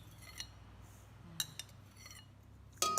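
A spoon stirs a Thai salad dressing of sugar and boiled water in a bowl, giving faint, sparse metallic clinks against the sides that build to a sharper clatter at the end.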